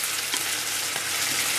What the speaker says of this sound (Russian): Обжариваю мясо.